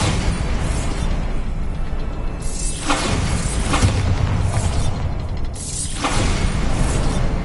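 Bombarda explosion spell cast in the Hogwarts Legacy video game, heard as loud blasts with crackling, mechanical debris noise layered over a steady game soundscape and bursting in two or three surges.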